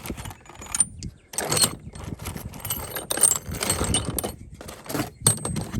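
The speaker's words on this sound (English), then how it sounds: "Somebody gave me a whole bunch of lag bolts and washers." Lag bolts and washers are handled among scrap metal, giving repeated metallic clinks and jangles in irregular bursts with brief pauses, close and fairly loud, no talking.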